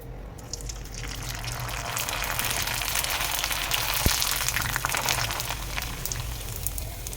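Ilai vadaam puffing up in hot oil, a steady broadband sizzle and bubbling that runs unbroken and fairly close, with no voices.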